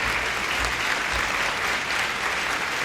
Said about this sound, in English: Why are they still clapping?